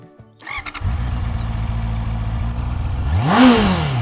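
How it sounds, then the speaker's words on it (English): A Honda CB650R motorcycle with stock exhaust fires up with a few sputtering pops, idles with a deep rumble, then revs sharply near the end. "let's also have a listen to its stock exhaust"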